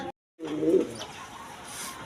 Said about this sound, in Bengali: এখানে এক পেয়ার কিং কবুতর আছে